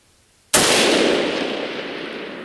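A single sharp crack from a Savage Axis 22-250 rifle fired outdoors at a bottle 700 yards away, loud and close, followed by a long rolling echo that slowly fades across the range.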